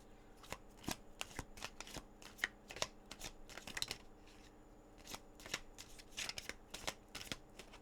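Tarot cards being shuffled by hand, a close, steady run of crisp riffling flicks and soft slaps with irregular rhythm, heard alone without talk.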